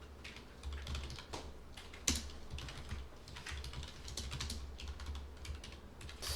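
Fingers typing on a computer keyboard while coding, a steady run of quiet close key clicks with one sharper keystroke partway through, no voices.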